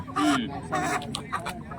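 Chickens crammed together for sale at a rural livestock market in Salegaon make a few short close clucks and squawks in quick bursts, with a voice talking over them.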